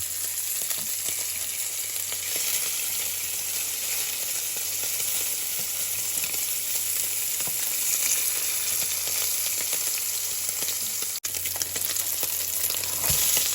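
Steady, loud sizzling and crackling of bacon frying in a hot pan, continuous throughout with no talking.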